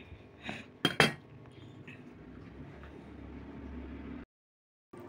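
Dishes and cutlery clink sharply a few times near the start, then a steady low hum runs until a brief silence near the end, as a home meal of fish curry gets underway.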